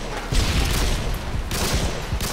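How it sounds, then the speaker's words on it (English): Video game gunfire, loud rapid volleys of shots in two main bursts with a short gap between, close and harsh with deep booming thuds underneath. "He's shooting."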